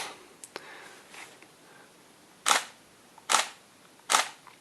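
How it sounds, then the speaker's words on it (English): Shutter of a Nikon Df camera firing single exposures: three close, crisp mechanical clacks spaced about a second apart, after some faint handling clicks, with no talking. "This is the sound of single exposure"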